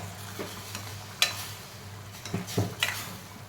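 Tomatoes sizzle softly in a pan, with a few sharp clinks and scrapes of a spoon stirring now and then.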